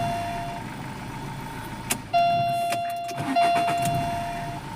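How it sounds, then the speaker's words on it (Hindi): Chevrolet Sail car engine with fault codes P1690 and P1676 starting after repair, a short starter crank followed by the engine catching and idling steadily close by. "तो अभी ये गाड़ी आराम से स्टार्ट हो रही है।"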